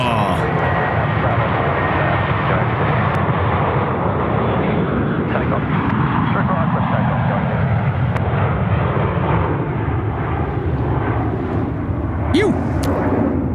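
A Dash 8-200 turboprop takes off at Sydney Airport, its engine roar broad and sustained at loud volume from start to finish.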